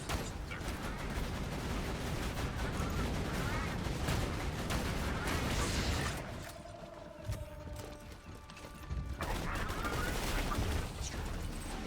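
Automatic turrets in Borderlands 2 fire at enemies in dense, rapid bursts of gunfire amid mechanical clatter, loud and continuous, easing briefly midway before resuming.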